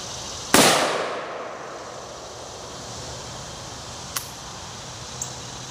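A single loud, sharp shot bursts from an AR-15 pistol with a 7.5-inch barrel fired at a water heater outdoors. Its echo decays for about a second, then a quiet outdoor hush follows with two faint ticks.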